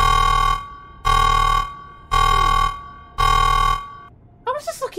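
A voice imitates a blaring alarm with four loud, evenly spaced sustained honks, each about a second long, followed by a short burst of vocal noise.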